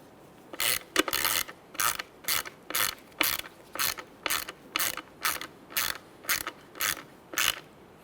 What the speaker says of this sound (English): You can just use a 1/4-inch ratchet.